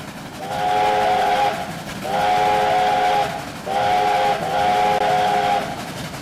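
G5 4-6-2 steam locomotive in the Trainz game sounding its whistle in three long, loud blasts separated by short gaps, over a steady rolling rumble.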